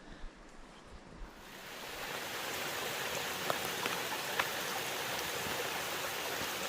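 Dense hiss of falling rain on a trail near a waterfall, quieter at first then swelling to a steady wash, with a few sharp drips popping through.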